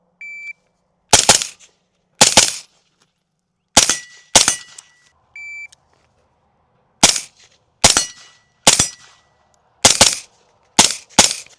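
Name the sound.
suppressed 5.56 rifle shots hitting steel targets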